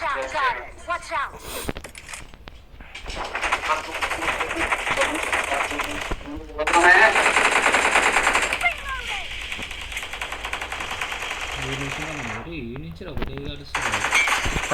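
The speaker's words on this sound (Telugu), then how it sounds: "అరే మిషన్ గన్ అండి ఇట బాగుండు కదా" Rapid machine gun bursts from the BGMI battle royale game rattle in loud, repeated volleys across the span, mixed with other gunfire, with someone talking excitedly over much of it.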